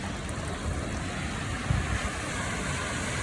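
Storm water from heavy rain rushes into a street storm drain, a loud, steady broadband roar with a few louder splashes in the middle.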